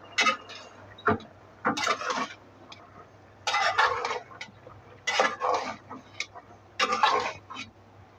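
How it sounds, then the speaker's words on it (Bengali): Spinach curry of Malabar spinach leaves with tomato and green chili being stirred in a pot, in short bursts of scraping and clatter separated by pauses, with a low steady hum under it and no talk. "এখন টমেটো, কাঁচামরিচ ছেড়ে দেব। এখন নাড়বো।"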